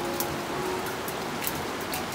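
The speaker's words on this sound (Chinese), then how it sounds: "有没有听见滴滴答答的雨声？" Steady rain on a wet day, a dense continuous patter with scattered sharper drips, moderately faint and alone without any voices.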